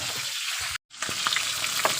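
Tilapia sizzles and crackles steadily in hot oil, with a brief break in the sound before the frying noise resumes.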